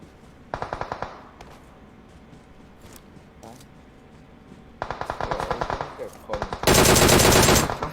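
Automatic gunfire in PUBG Mobile rattles out in several loud bursts: a short rapid volley early, scattered single shots, then longer sustained strings of fire building to a dense, loud barrage at the end.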